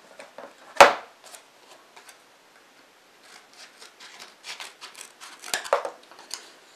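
A blade snips off a piece of material while a model steam engine is being built, one sharp close cut followed by quieter scraping, rubbing and small clicking handling noises.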